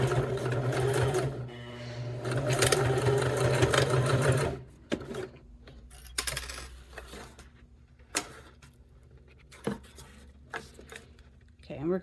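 A sewing machine stitches along the folded edge of a clutch's card pocket, its motor whirring steadily for several seconds before stopping, followed by scattered clicks and handling noises.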